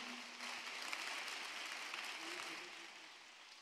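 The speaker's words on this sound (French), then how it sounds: "Acclame très fort Jésus." A church congregation at a Tuesday evening service applauds and cheers for Jesus, a steady wash of clapping and crowd noise that swells and then slowly fades.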